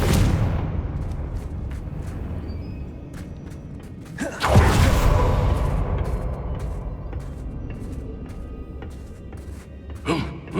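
Confringo blasting spell going off in the Hogwarts Legacy video game: a loud, sudden burst around midway that decays slowly, a smaller blast near the end, over continuous game ambience.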